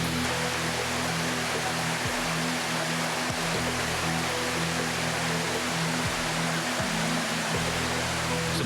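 A swift, swollen river after flash flooding rushes in a dense, steady roar, loud and continuous throughout, with faint low mechanical hums beneath the water.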